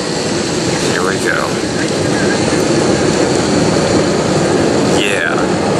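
Airbus A321 jet engines roaring at full throttle during a Delta takeoff from the cabin, a loud, constant broadband rush with a few whistling tones over it, and voices shouting under the noise.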